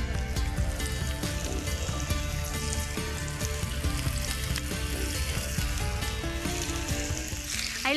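Zucchini frying in olive oil in a hot pan gives a steady, close sizzle with fine crackling and spitting that holds evenly throughout, with no talk.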